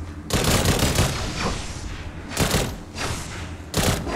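Shotgun blasts ring out in the video game Nova, three loud booming shots spaced a second or two apart, each trailing into a rumbling echo.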